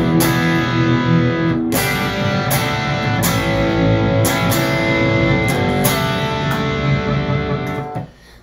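Electric guitar through a Marshall JMP-1 preamp on its lowest-gain OD1 overdrive setting, mildly crunchy tone strumming chords in rhythmic bursts, loud and close, with no talking, ending as the last chord fades.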